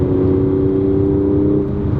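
A 2018 Mercedes-AMG C43 Coupe 4MATIC engine holding a steady, droning exhaust note with a strong tonal hum, loud and close, dipping slightly near the end.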